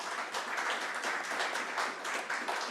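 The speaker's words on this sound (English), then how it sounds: "I think we should give them a big round of applause" Audience at a press conference applauding in a steady, dense patter of clapping that holds at an even level for the whole span, with no voices over it.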